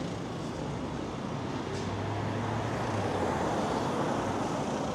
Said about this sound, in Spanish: Solo se siente nada más el sonido de los autos, de las motos.